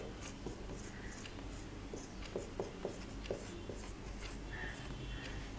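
Pen scratching across paper while working out a class 10 maths problem, a steady faint scraping with light taps and strokes under a low background hiss, no talk.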